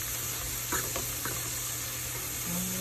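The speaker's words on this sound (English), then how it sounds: "Constantly stirring, scraping with this deglazing process." A pan being stirred and scraped while deglazing with Merlot wine for roast beef, a steady close sizzle with a few scraping strokes of the utensil across the pan bottom.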